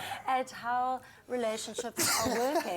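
A single sharp sneeze bursts out during talk on a live morning TV talk show set, a brief noisy blast between a presenter's spoken phrases.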